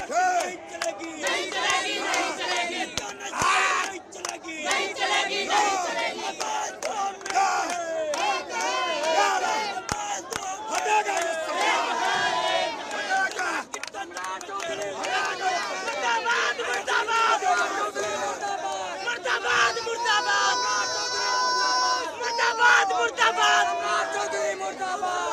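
Students protesting at Gandhi Maidan in Patna chant and shout in a loud, dense crowd, rhythmic slogans and battle cries rising over continuous babble for the whole stretch, close and unrelenting.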